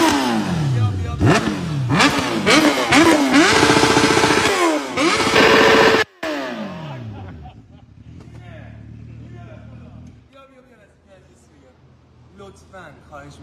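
A motorcycle engine revs hard several times close by, rising and falling sharply, then cuts off and settles into a low idle with faint voices.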